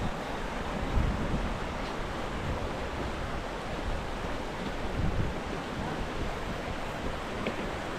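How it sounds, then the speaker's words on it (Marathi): Water of the Kalu River near the top of Kalu Waterfall flowing at low volume after a dry spell, a steady broadband rush that holds even and continuous throughout with no voices. "ही कालू रिवर आज पाऊस नसल्यामुळं पाण्याचा प्रवाह काय एवढा जास्त नाही आहे"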